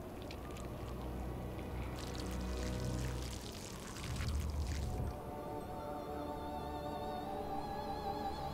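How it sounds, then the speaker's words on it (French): Blood pouring with a wet gurgling stream in Castlevania: Lords of Shadow, steady for several seconds, surging briefly to a heavier splash, then fading into a quiet ambient game soundscape. "Verser du sang."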